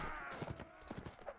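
Horse hooves clip-clop in the Mount & Blade Warband video game, a steady patter of fairly faint hoofbeats under a busy wash of game background noise.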